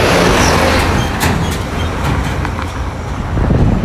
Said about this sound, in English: There you go, these sand trucks speeding on.